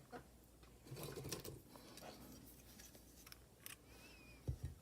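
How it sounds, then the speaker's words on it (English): Scissors snipping crochet yarn, a few quiet close clicks and cuts against faint room background, soft and brief. "I'm going to cut my yarn"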